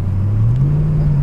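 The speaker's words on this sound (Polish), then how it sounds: "Reakcja na pedał gazu jest taka, jak w V8 ma po prostu być." A freshly rebuilt BMW M62TUB44 V8 engine revs up smoothly, its loud low drone climbing steadily in pitch as the throttle opens, heard close and alone without talk.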